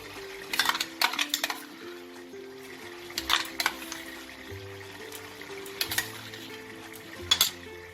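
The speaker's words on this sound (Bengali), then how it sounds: "এবার আমি এতে বেরেস্তা আর আমন্ড পেস্টটা আমি অ্যাড করে দেবো।" Fried onions and almond paste are stirred into oil-rich chicken zafrani korma in a pan, with sharp metal spoon clinks and scrapes in scattered clusters over a faint, low sizzle.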